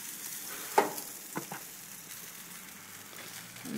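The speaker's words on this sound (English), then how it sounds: "making a video of me grilling some steaks and ribs on the grill" Steaks and ribs sizzle softly on a grill as cooking wraps up, a steady low hiss with a few sharp pops and crackles near the start.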